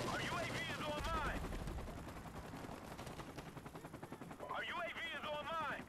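Sniper rifle shots in a first-person shooter video game, a few loud cracks amid a busy mix of game sounds, with swooping electronic tones at the start and end.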